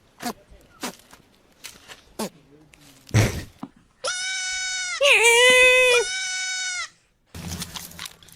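Short knocks and thumps lead into a loud, drawn-out goat bleat that rises into a harsh screaming cry, then cuts off before a burst of noise.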